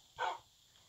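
A single short dog bark from a Minecraft game, a soft yip rising briefly and fading quickly, fairly quiet with no talking.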